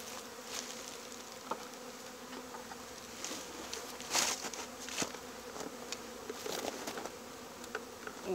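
Honey bees buzz steadily at an opened hive during an early-season inspection, a dense continuous drone with brief louder passes of individual bees flying close.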